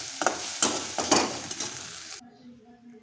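Masala spice paste sizzles in a pan for a potato filling, with stirring scrapes and sputtering bursts up close, then the frying cuts off abruptly near the end.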